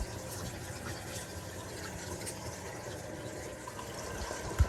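Water runs steadily from a kitchen sink tap into the drain pipes under a work-order leak check, a continuous close hiss and gush with no talk.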